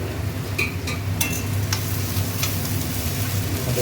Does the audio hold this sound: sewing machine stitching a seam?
no